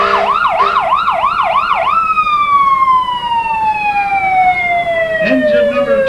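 A fire engine siren in a Labor Day parade wails, sweeping up and down rapidly, then settles into a long, slowly falling howl, loud and close, with a brief low rumble near the end.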